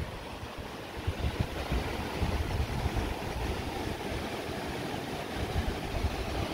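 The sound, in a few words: water flowing down from a height under a bridge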